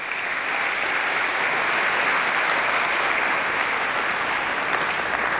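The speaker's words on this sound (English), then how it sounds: "Let's give Miss Tuskegee University in Court for 2015-16 another round of applause." A large crowd at a Tuskegee University court presentation gives a dense, sustained round of applause, loud and even throughout with no break.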